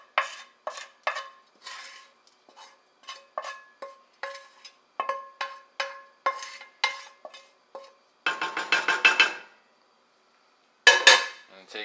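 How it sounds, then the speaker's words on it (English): A spoon stirs onions and garlic into tamale filling in a pot, giving a steady run of sharp clinks and scrapes against the metal, followed by two short bursts of sizzling near the end. "take your spoon and bring it all together"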